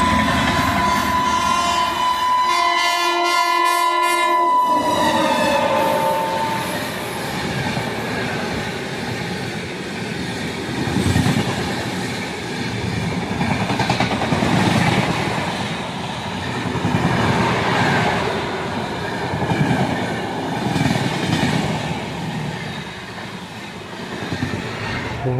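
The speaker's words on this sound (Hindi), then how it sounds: "पीछे से 12/6/25 केरला एक्सप्रेस भी आ रही है हमें ओवरटेक करने के लिए फुल हॉकिंग के साथ" The Kerala Express passes close by on an Indian railway line, its horn blaring loudly at first, followed by a steady heavy roar of wheels and carriages rumbling past for a long, continuous stretch.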